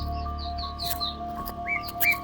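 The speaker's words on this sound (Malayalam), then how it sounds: "പക്ഷികൾ മാത്രം ഇങ്ങനെ" Small birds chirp and tweet in short, scattered calls across a quiet Victorian-era cemetery, fairly faint and distant over a low steady hum, with no one talking.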